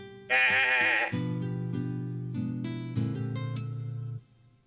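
A sheep bleats loudly and close, one high wavering cry followed by a longer, lower, drawn-out bleat that breaks into several pulses before stopping.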